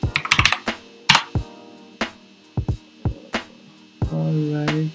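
Typing on a computer keyboard, heard up close as scattered clicks in short bursts with pauses between them, over a faint hum and a brief sustained tone near the end.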